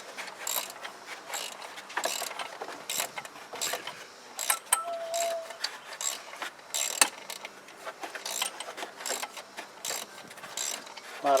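Hand ratchet tightening a bolt on a Mercedes E320 during serpentine belt replacement, giving repeated close clicking and ratcheting strokes in irregular bursts, with no talking.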